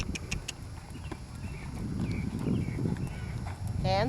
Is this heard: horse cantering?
yes